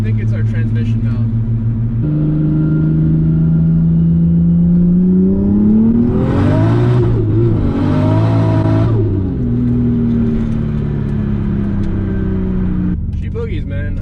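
A stock 2JZ-engined Supra running E85 pulling hard, its engine drone rising steadily in pitch through the gears with a brief higher whine in the middle, loud and close inside the cabin, with voices talking over it.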